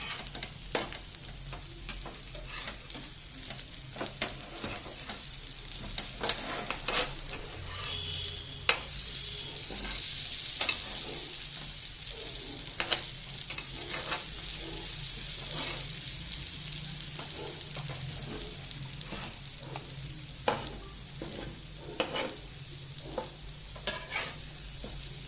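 Chopped ridge gourd stir-fried in a pan gives off a steady close sizzle, broken by scattered scraping and stirring clicks, with no talk.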